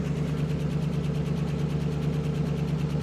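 A 1979 Dodge W150 Roundup engine idles loudly with no exhaust fitted, a steady, rapid, rough pulsing drone heard up close, unbroken and without speech.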